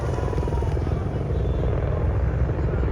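Army helicopters fly over an Army Day parade rehearsal, their rotors producing a loud, steady, close thudding roar throughout.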